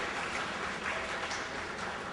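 Steady audience applause during an honouring ceremony at a Tamil astrology society's anniversary function, a dense continuous patter of many hands filling the room with no voices over it.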